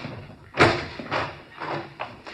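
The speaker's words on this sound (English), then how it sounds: "Here, I'll get the door." A door is opened and shut in an old radio crime drama, with a sharp slam followed by a few softer thumps and clunks at close range.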